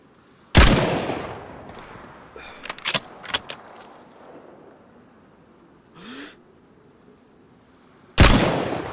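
Gunfire in a survival video game on Deer Isle: two loud, sharp shots about eight seconds apart, with a cluster of quieter rattling clicks and a faint thud between them.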